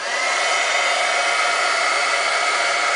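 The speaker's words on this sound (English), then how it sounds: "to heat emboss we need to melt our powder, so here's my heat tool" Heat embossing tool blowing hot air steadily to melt embossing powder on a silver butterfly card, a constant close, loud hair-dryer-like whoosh with no pauses.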